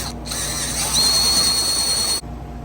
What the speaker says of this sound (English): I'm gonna use a center drill to basically do the same thing with these holes